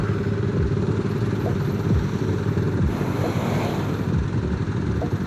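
A Kawasaki Z250 with a racing exhaust rumbles on an afternoon solo ride, a steady low engine drone with brief rising and falling revs and wind buffeting the microphone.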